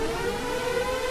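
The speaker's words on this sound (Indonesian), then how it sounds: "terdengar sebuah sirine yang menandakan bahwa kini tempat mereka akan diserang" An alarm siren warns of an attack by otherworldly creatures in an anime battle setting, a steady sustained wail holding a loud continuous tone throughout with no speech.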